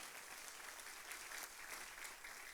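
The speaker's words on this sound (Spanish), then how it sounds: "¿Cuántos dan un aplauso al Señor?" Congregation at a church service applauding together, a soft, steady wash of many hands clapping that holds evenly throughout, fairly distant and quiet.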